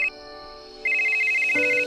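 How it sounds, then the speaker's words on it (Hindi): A mobile phone plays its ringtone as a steady, close electronic tone for an incoming call from a wife. The tone starts after a short pause and shifts pitch near the end, with no talking over it. "तभी उसकी वाइफ का फोन आया।"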